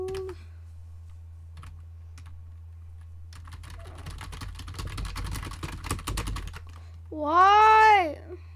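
Computer keyboard typing on the Hacker Typer website comes as sparse, light key clicks, then a denser burst of rapid tapping midway over a steady low hum, ending with a short high vocal squeal.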